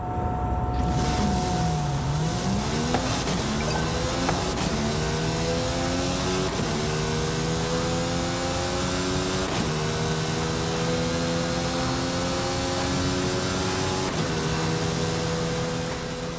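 A Hoonigan Focus RS RX race car roars through a racing video game, its engine loud and continuous, with the pitch climbing through repeated gear shifts and steady acceleration and no talking over it.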